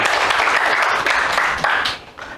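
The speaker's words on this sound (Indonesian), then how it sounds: "Tepuk tangan untuk kita semuanya." A classroom of teacher trainees breaks into brisk applause, a close, busy clatter of hands that holds for a couple of seconds and then thins out and fades.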